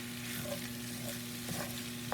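Corned beef hash frying in a skillet makes a steady sizzle, with soft scrapes from stirring now and then, close and even over a faint hum.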